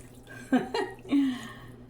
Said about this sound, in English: I always use filtered water. I don't like chlorine soup.